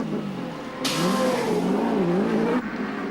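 The number 11 Perkins Engineering touring race car leaves the pits after a tyre change at a 1990 ATCC race, its engine note rising and wavering loudly under steady background engine noise, then cutting off abruptly.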